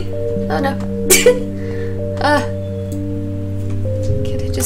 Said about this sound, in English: Can I just make it through the game without sneezing?